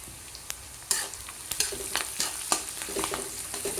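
Onions with curry leaves and turmeric stirred in a pan for kanda poha, a bright continuous sizzle broken by repeated spatula scrapes and knocks, close and fairly loud with no talking.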